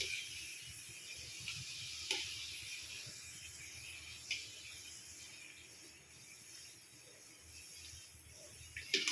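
Papad rolled and fried in hot oil, a steady faint sizzle and hiss with occasional sharp crackles and pops, close and alone without talking.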